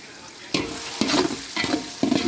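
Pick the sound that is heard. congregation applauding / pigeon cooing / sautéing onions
sautéing onions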